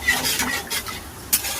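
A spoon stirs sugar and sour yogurt in a pan, producing brief scraping and soft wet swishes with a faint sizzle, close and loud over about two seconds.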